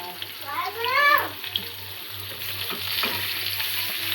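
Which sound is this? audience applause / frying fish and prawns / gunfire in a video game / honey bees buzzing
frying fish and prawns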